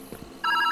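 A telephone in the puzzle game Viewfinder starts ringing partway in, a loud electronic double-pulse ring after a brief quiet stretch.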